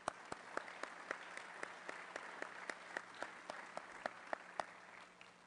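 A small audience at a Rotary Club of Denver meeting gives a light round of applause, and individual sharp claps stand out in an irregular patter that stays fairly quiet and continues throughout.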